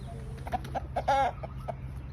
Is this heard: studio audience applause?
no